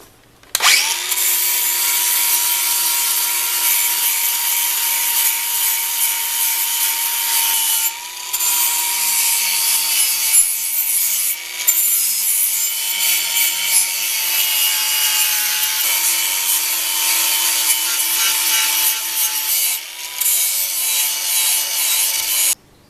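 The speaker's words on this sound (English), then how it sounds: "The next thing to do is to clean up the heads with the grinder." Grinder runs steadily and loudly against hatchet heads, cleaning up the steel in a continuous high whine with brief dips in pitch as the tool is pressed and eased, close up and without speech.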